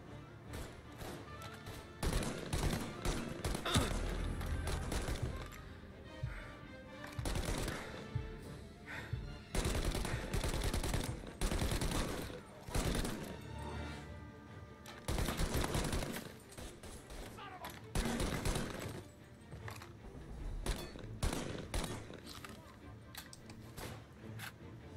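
Gunfire crackles through a shootout in the Mafia Definitive Edition video game, with loud volleys of rapid shots and heavy thuds in clustered bursts separated by short lulls, and a voice talks at times.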